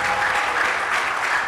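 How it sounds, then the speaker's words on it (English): Audience applause at a national electoral reforms summit, a continuous, even wash of many clapping hands at steady loudness without speech. "Prince deserves a louder round of applause"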